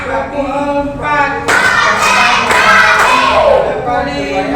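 A few sharp hand claps land under a melodic, sung voice, as if clapping along with a children's rhythm chant.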